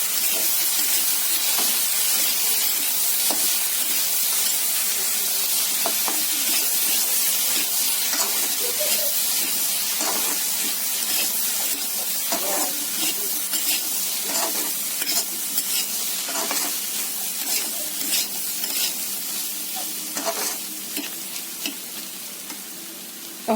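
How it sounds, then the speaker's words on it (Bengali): Chana ghugni is stirred in a pan with coriander butter: a continuous sizzle with scraping spoon strokes, loud and close, easing off slightly toward the end. "ধনে বাটারটা চানার সাথে মিশিয়ে নেব।"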